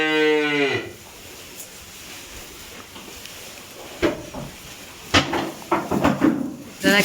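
Farm cattle at a rural home in Tulunad give a long, loud low moo close by, followed by quieter barn noises and bursts of nearby talk later on.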